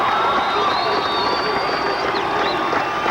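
A stadium crowd cheers and applauds the 1986 New York Mets World Series champions at a celebration. The roar is loud, dense and steady, with whistles and shouts rising out of it throughout.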